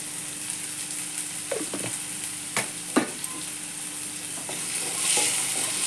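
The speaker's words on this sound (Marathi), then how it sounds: "गॅस बारीक करून चांगली परतू द्यायची भाजी" Vegetables for a fasting dish with salt and crushed green chilli sautéing in a pan, a continuous close sizzle broken by a few sharp stirring scrapes and clinks, with no talking.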